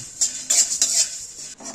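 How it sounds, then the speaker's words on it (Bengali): A spoon scrapes and clinks against a pan in short bursts as whole black peppercorns, cumin, cloves and cardamom are stirred and fried, close and clear with no voices. "এবার এইটাকে নাড়াচাড়া করে ভেজে নেব"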